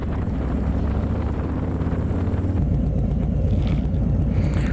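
Engine of a 2020 Harley-Davidson Low Rider S motorcycle idling while warming up, a loud, close, continuous low rumble with a steady pulsing beat under some wind-like noise and no talking.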